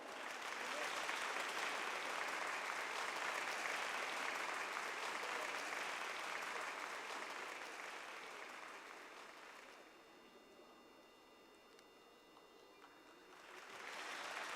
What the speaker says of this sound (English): Let's encourage her with a good hand of applause.